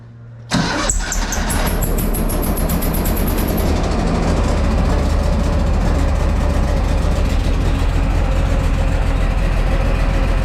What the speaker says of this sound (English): Sounds like I'm blowing a little bit of compression out the side of the cylinder head.